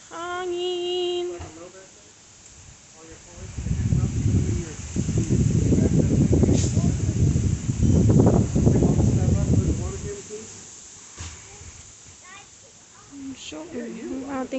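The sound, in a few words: wind blowing outdoors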